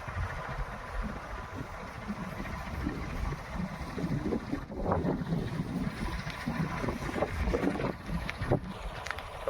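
Strong wind blows across an open farm field, a continuous rushing roar buffeting the microphone with gusty swells and no voices.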